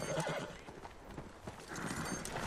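Horse hooves clip-clop on the ground in a 1999 historical adventure film scene featuring small, fast Arabian horses, a short quiet run of hoofbeats with a brief whinny mixed in.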